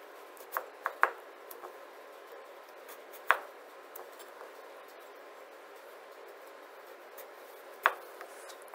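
Knife slicing a potato into one-centimetre slices on a cutting board: a few faint, sharp taps at uneven intervals with long quiet gaps between them, no speech.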